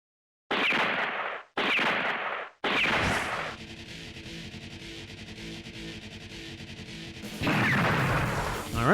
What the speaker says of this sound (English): guns are being fired